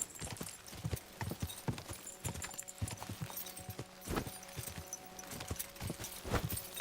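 Horse hooves clip-clopping at a steady walk in the video game Kingdom Come, a regular close rhythm of hoof strikes with light tack jingling throughout.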